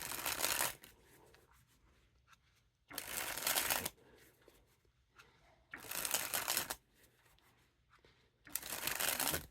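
Queen Bee playing cards by Ellusionist get riffle-shuffled in four crisp, close bursts of fast fluttering card snaps, with quiet handling and squaring sounds in the pauses between.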